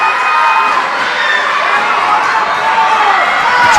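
Spectators at a middle school girls basketball game shout and cheer loudly, a dense crowd roar with children's voices rising over it.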